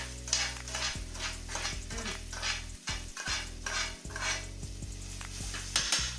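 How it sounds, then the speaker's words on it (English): Onions cook in butter and shrimp essence for a creamy shrimp pasta, with a soft sizzle as a utensil stirs and scrapes the pan in repeated strokes. Steady music plays underneath. "you give your onions a moment to really cook in that butter and shrimp essence"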